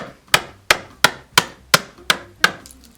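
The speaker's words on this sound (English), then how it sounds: "I'm using a very long flathead screwdriver and a hammer" A hammer strikes a long flathead screwdriver seven times in a steady rhythm, prying wooden closet trim loose; each blow is sharp, close and loud with a short ringing decay, and no one speaks.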